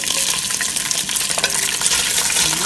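Bacon fries in oil inside a hot Dutch oven, giving a loud, close, crackling sizzle with dense spits and pops that runs steadily throughout, no speech over it.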